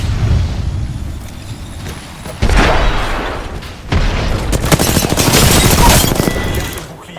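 Gunfire from the video game Apex Legends, dense bursts of rapid automatic shots and booming blasts coming loud and close in clustered volleys, with brief quieter gaps between.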